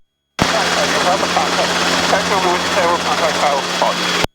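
A Robinson helicopter hover-taxis on the airport ramp during a training flight, its steady rotor and engine drone loud and close throughout, with radio chatter over the top before the sound cuts off abruptly.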